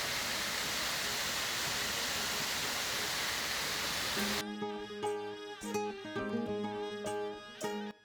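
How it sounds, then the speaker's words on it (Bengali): A large waterfall beside a flower garden in Gangtok gives a steady, dense roar for about four seconds. The roar then cuts away to music with no water sound. "এখানে একটু বড় ঝর্ণা দেখতে পেলাম"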